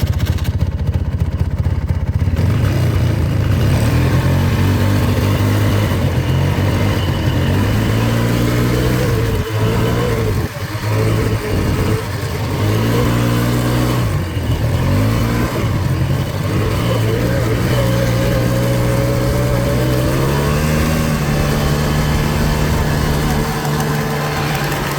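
A four-wheeler ATV engine runs during a ride, its mid-pitched drone rising and falling as the throttle opens and eases, with short dips where it idles down, heard up close and steady throughout.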